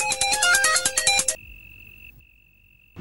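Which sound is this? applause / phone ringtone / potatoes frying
phone ringtone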